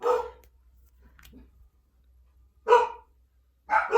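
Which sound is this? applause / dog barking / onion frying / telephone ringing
dog barking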